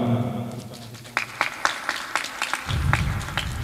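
Scattered audience applause at a junior high school graduation, a handful of separate claps rising over a fading voice and low hum, then a denser patch of clapping near the end.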